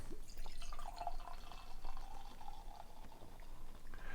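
Bourbon barrel-aged stout beer poured from a bottle into a glass, a steady liquid gurgle and trickle with small drips, close and moderately quiet throughout.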